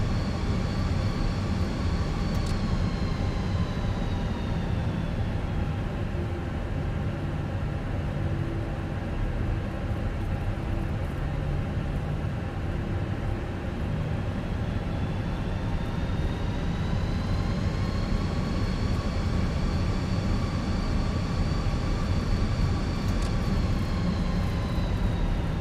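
An airliner takes off from runway 07 in Microsoft Flight Simulator, with a steady, loud jet engine roar that slowly rises and falls in pitch over about 25 seconds. No one speaks.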